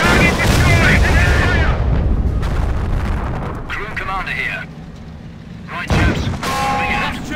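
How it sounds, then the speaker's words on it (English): In the Company of Heroes battle for Caen, heavy artillery blasts and rolling gunfire boom loudly and nearly continuously, with a brief lull before another close explosion, and soldiers' shouted voices are mixed in. "Artillery, find cover!"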